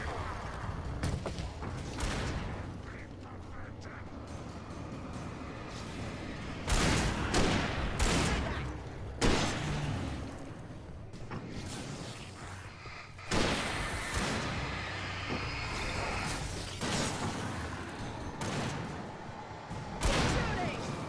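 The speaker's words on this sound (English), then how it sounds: "Shooting!" Gunfire in the video game Alan Wake, several loud sharp bursts and thuds spaced irregularly, with a voice talking between shots.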